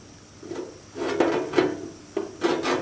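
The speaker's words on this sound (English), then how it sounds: "that's our little tool for turning up the edge of the flange here to make it nice little weld" A flat bar tool with hacksaw cuts bends up the flange edge of an aluminium motorbike fuel tank, making several close, rough scraping and rubbing strokes in an uneven rhythm, with no talking.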